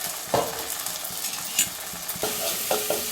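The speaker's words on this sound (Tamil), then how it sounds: "பச்சை மிளகாய், தக்காளி, கொஞ்சோண்டு தக்காளி எண்ணெயில் போட்டு வதக்கணும்" Green chillies and tomato sautéing in oil for a fish curry, a steady close sizzle broken by several clattering stirs and utensil scrapes against the pan, without any voices.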